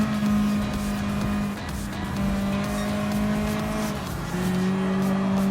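Group 4 race cars in Gran Turismo Sport, including a Mazda Atenza, roaring close by with steady engine drone and shifting pitch as the field is passed, loud and continuous with no talk.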